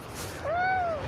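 A cat gives a single short, clear meow at a campsite during a backpacking outing, close and distinct over faint background noise.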